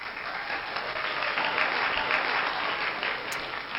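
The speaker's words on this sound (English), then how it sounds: "So if I'm looking for applause, I go ahead and I can preview that" A stored applause sound effect plays back from a USB stick on a Roland Fantom workstation: a continuous wash of crowd clapping, moderately quiet and even, with no voices over it.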